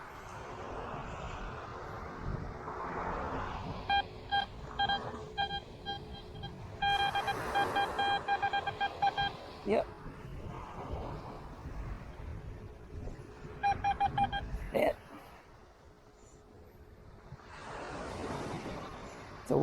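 An XP Deus 2 metal detector on a Ft Lauderdale beach gives two bursts of stuttering, warbling beeps over aluminum foil, heard faintly over wind and surf rumble.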